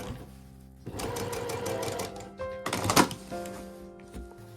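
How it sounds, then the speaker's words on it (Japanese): Sewing machine stitching skirt lining to the outer fabric during a skirt alteration, a short close whirring run of rapid needle clatter with a brief pause and a few handling clicks, no speech. "裏地を上にして縫います。"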